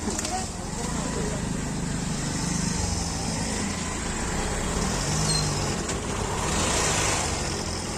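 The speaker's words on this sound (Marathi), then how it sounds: "चांगल्या गाड्या मंडळी असे असे निघत आहेत" Traffic crawling along a rain-soaked village road in a jam during heavy rain, a steady loud wash of engines and tyres on wet pavement with the broadband hiss of rain, continuous throughout, with a voice talking over it.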